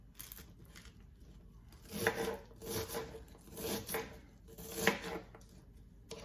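Knife slicing plantains and vegetables, repeated rasping cuts against a board in short bursts, close and fairly quiet with no talking.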